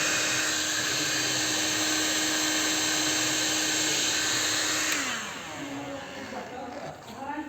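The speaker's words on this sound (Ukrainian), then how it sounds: "І феном, феном його гріємо, щоб він зжався." A steady loud whirring heat gun drones on, shrinking heat-shrink tubing on a Skoda, with a constant hum that drops in pitch and changes tone near the end as it winds down.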